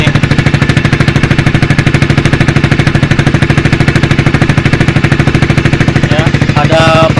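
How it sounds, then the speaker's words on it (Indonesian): Close, loud idle of a Honda Sonic 150 running a Pro Liner TR1 exhaust with the DB killer in, a fast steady thumping putter, with a brief higher sound near the end. "Kalau misalnya ini pakai DB killer, suaranya seperti ini"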